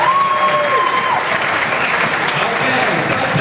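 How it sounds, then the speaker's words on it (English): Cabaret audience at a Thomson holiday resort show in the Sousse Palace, Tunisia, breaks into sustained applause, a dense, loud patter of many hands clapping continuously, with an announcer's voice over it at the start. "A big round of applause, everybody."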